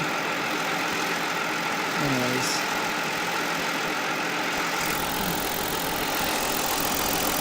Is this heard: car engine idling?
yes